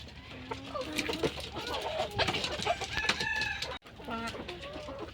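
Large purebred desi hens cluck busily close by while a rooster crows over them, a dense, continuous farmyard chorus with a brief break near the end.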